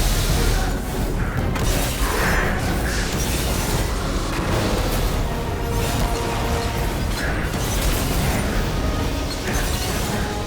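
Explosions in the video game Destiny, during an escape from the destruction of the SIVA plant: a loud, dense, continuous barrage of booms, crashes and shattering debris with no letup for the full stretch.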